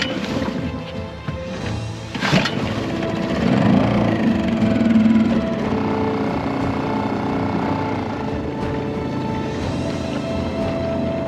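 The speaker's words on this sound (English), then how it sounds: "I need to start this engine and head back upwind," A sailboat's engine starts and then motors steadily near a glacier in icy water, a brief sharp knock early on before a continuous mid-loud drone settles in and runs throughout.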